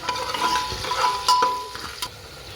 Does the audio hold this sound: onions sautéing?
yes